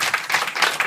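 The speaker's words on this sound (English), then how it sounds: "Let us give their father and their mother a round of applause too." Applause from an audience honoring a couple, the parents, at a gathering, a brief burst of dense clapping that swells in uneven waves, fairly loud and close with no speech over it.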